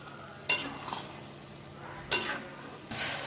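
Beetroot and coconut ladoo mixture is sautéed in a pan, a quiet low sizzle punctuated by three sharp scraping stirs of a spoon against the pan, close and otherwise alone.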